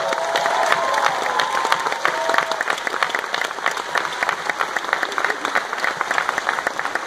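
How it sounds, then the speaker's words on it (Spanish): An audience claps and cheers for a film's cast at a presentation, loud dense applause with scattered shouts and whoops throughout, sustained and close. "Un aplauso también, por favor, para Magaly Solier"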